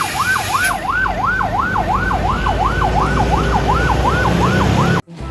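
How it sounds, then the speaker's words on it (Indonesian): Toy ambulance siren wailing in a fast, regular up-and-down sweep, loud and close, repeating about a dozen cycles before cutting off abruptly. "Di sini ada mobil ambulan."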